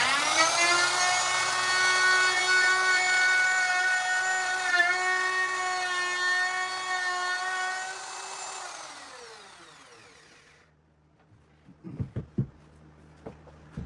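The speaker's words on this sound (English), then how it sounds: "now I've got a Forstner bit coming in from the front" Power drill boring a hole with a Forstner bit into wood for a tool wall, a steady loud whine lasting about nine seconds before spinning down, followed by a few light knocks and clatters.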